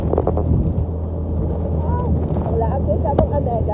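Motorcycles ride along a road toward a house, a loud, steady engine drone with wind buffeting the microphone throughout, and voices talking over it.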